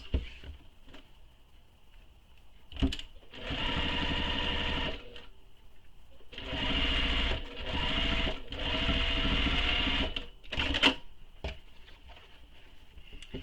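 Sewing machine stitching closed a turning gap on a tote bag slip pocket, several close bursts of fast whirring needle action of a second or two each, separated by short pauses and faint handling clicks.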